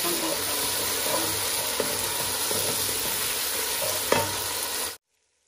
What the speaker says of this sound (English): we are going to let this fry for more 20 minutes to come out of the pan